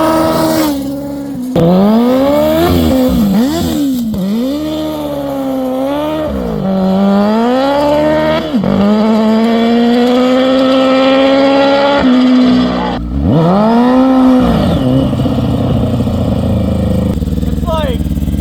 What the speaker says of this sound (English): those shifts kind of sound like a BMW.